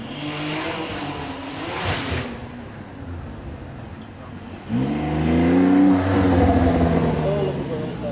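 A turbocharged Porsche supercar on a demo run at the Beaulieu Supercar Weekend, first a distant engine drone, then a loud, rising acceleration sweeping closer with strong revving for the last few seconds.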